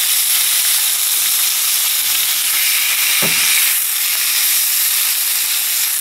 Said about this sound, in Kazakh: Бауырды қуырып алу керек